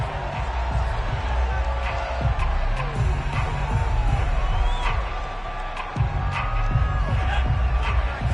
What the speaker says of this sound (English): Plenty of shouts from this crowd as they watch the replay